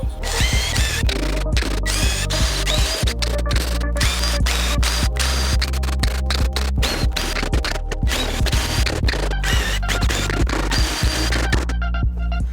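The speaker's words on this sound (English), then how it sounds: "Now for these, I'm going to use the lath screws because they're a little bit beefier than those pocket hole screws." A power drill drives lath screws into a wooden porch bench, with repeated short whirring bursts and clicks close by and no speech.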